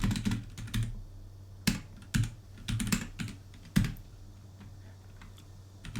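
Someone types Java code on a computer keyboard in quiet, scattered bursts of clicking keystrokes with pauses between them, nearby and moderately soft.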